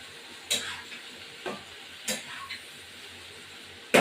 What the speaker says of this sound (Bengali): ইঁচড়টা একটু ভাজা ভাজা হোক